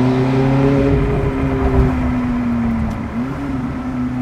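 A small diesel car, a licence-free microcar, accelerates nearby with a steady droning engine note that holds loud and continuous, its pitch sagging and then rising again near the end.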